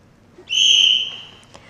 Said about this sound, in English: The whistle will mark the start and the end of your quest.